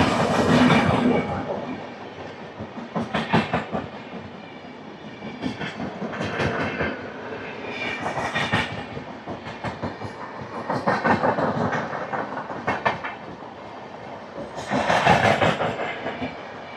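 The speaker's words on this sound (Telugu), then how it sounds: "మన ట్రైన్ కూడా స్టార్ట్ అయిపోయింది ఆలేరు నుంచి." An Intercity Express train runs after leaving a station. Rhythmic clickety-clack bursts from the wheels crossing rail joints repeat over a continuous rolling rumble, heard close from on board.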